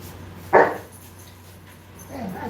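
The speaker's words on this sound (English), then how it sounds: "It's unfortunate right now that my dogs are awake." A dog gives one sharp, single bark at medium distance indoors, followed by faint shuffling and low background hum.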